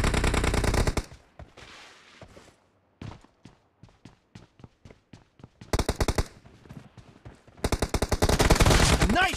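Gunfire rings out in the mobile battle royale BGMI: loud rapid automatic bursts open and close the stretch, with a slower run of single shots in between and brief silent gaps.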